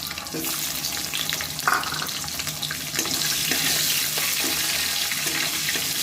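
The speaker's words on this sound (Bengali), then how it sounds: "আলুটা আমাদের ভাজা হয়ে গেছে" Potatoes fry in hot oil with cumin and bay leaf in a pan, a steady loud sizzle with a few stirring clinks and scrapes, close by and with no talk.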